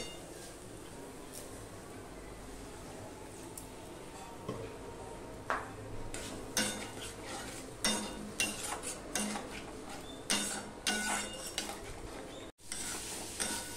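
Spice paste (masala) being stirred and fried in a pan for a Katla fish curry, with irregular spatula scrapes and clinks over a soft sizzle that picks up partway through, close by and without speech.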